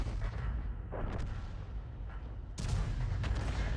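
In World of Tanks, the Bat.-Châtillon 155 55 self-propelled artillery fires a heavy shot, a deep booming blast with rumble, followed by a second loud concussive burst about a second and a half later, over continuous battlefield noise.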